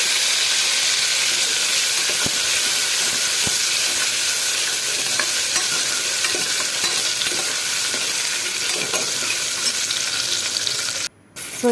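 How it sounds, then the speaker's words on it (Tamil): Tomatoes frying in hot oil until soft and mushy, a steady continuous sizzle and hiss throughout with occasional stirring scrapes, close and loud, ending with a brief drop-out near the end. "இப்போ வந்து கொஞ்சம் தக்காளி ஆட் பண்ணிக்கோங்க. இது வந்து கொஞ்சம் நல்லா வந்து ஃப்ரை பண்ணிவிட்டு கொஞ்சம் வந்து மேஷ் ஆகிற அளவுக்கு ஃப்ரை பண்ணுங்கள்"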